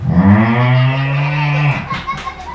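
A cow gives one long, loud, close moo that holds steady before trailing off, followed by brief softer noises.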